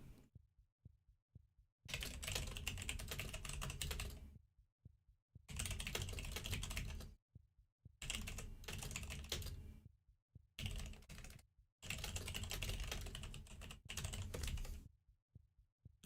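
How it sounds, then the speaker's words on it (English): Someone types fast on a computer keyboard nearby, in five bursts of clattering keystrokes of about two seconds each, separated by short quiet gaps with faint single clicks. "you hear the click clack on my keyboard"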